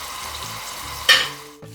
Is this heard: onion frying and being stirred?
yes